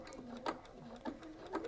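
A sewing machine stitches a seam on a notebook cover, a faint, rhythmic mechanical chugging with about three evenly spaced pulses close by.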